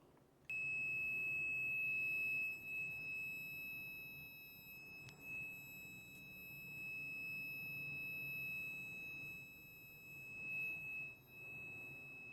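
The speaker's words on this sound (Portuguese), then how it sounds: "Dá para você ouvir aí o bip sonoro" A multimeter gives a steady continuity beep while testing a shorted fan coil on a workbench, one long tone lasting several seconds, followed by faint clicks and low room noise.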